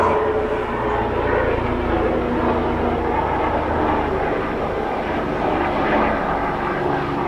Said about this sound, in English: The sheriff's helicopter is going.